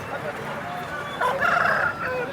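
Hens cluck and a rooster gives a short crow amid market noise at the Nallapadu poultry market, with a voice talking faintly in the background.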